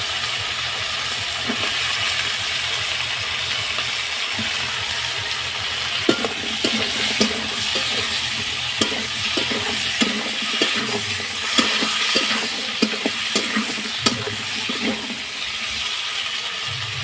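Potatoes frying with browned onions in a pan, a steady sizzle with a run of scraping stirs and clicks from a utensil partway through, close and fairly loud with no talk.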